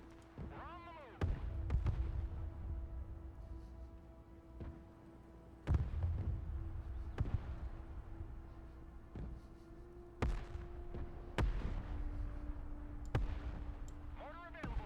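Mortar fire in the video game Broken Arrow lands as a series of deep, heavy thumps spaced a few seconds apart, moderately distant, under intermittent radio-style talk and game ambience.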